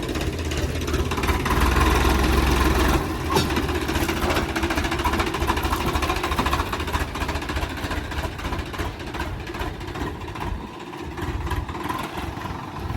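A 744 tractor's engine runs steadily while working a rotavator in a maize field, a loud continuous diesel drone with a churning rumble that barely varies, with no voices.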